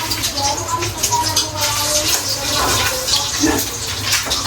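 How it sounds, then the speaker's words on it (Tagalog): Water runs steadily from a tap in a continuous close rushing hiss, with voices talking faintly underneath. "Paparinig ko kayo ng tubig."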